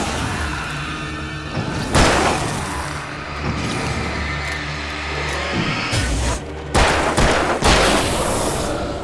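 Gunfire in the video game Alan Wake comes as loud, close bursts of shots within a dense, rumbling game soundscape, with a heavy blast early on and another cluster of shots toward the end.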